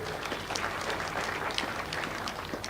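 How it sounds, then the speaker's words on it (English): Steady crowd applause fills the air for the bereaved family at a burial mass in Ng'arua, Laikipia, dense even clapping from many hands, moderately close and continuous without a break. "Let us appreciate the family with a round of applause kindly."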